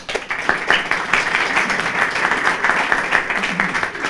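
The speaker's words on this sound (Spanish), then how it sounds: "les pido un fuerte aplauso para nuestro primer expositor" An audience at a Chilean libertarian party seminar gives a hearty round of applause for the first speaker, many hands clapping in a dense, even burst that holds steady for several seconds.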